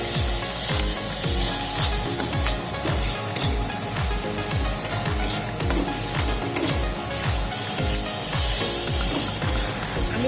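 Spice paste is sautéed in a pan for katla fish fingers, a continuous close sizzle layered with repeated scraping and stirring strokes in a quick, steady rhythm.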